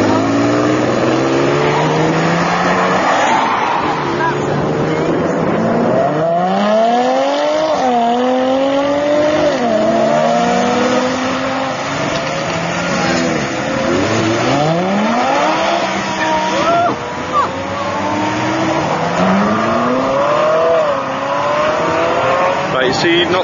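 A high-revving Lamborghini Diablo engine roars and shifts repeatedly, pitch climbing and dropping through gears, loud and continuous, with faint voices underneath.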